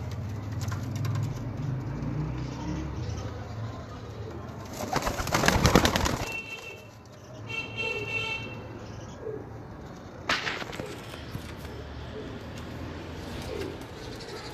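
Pigeons coo softly amid a busy background, with a burst of wing flapping and rustling partway through.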